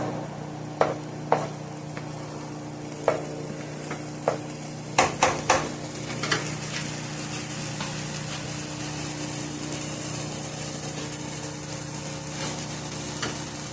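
Chicken fried rice stirred and pushed aside in a hot sizzling pan, a steady fry hiss with scattered scrapes and clinks of the utensil against the pan, clustered in the middle.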